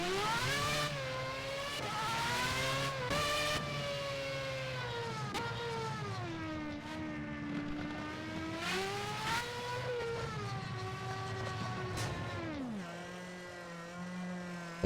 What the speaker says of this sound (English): I like the fact it has the stationary engine sound like that